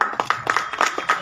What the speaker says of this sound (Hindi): जोरदार तालियां उदयराज जी के लिए।